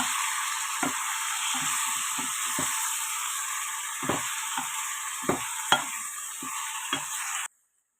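Marinated prawns fry in a pan with a steady, close sizzle, broken by scraping stirs and clinks, and the sound cuts off abruptly at the end.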